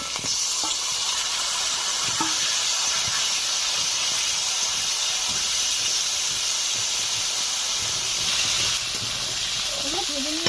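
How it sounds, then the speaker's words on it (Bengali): Cut potatoes and taro hitting hot oil left from frying fish, giving a loud, steady hiss and sizzle that runs throughout, close by, with a few faint clinks of utensils. "এখন এই মাছ ভাজা তেলের উপরে দিয়ে দিচ্ছি।"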